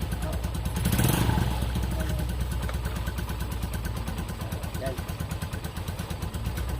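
A police officer's new motorcycle runs with a steady, close, pulsing idle and a brief swell near the start, while voices talk over it.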